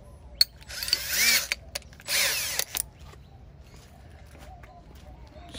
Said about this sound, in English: We're gonna take the larger drill bit this time.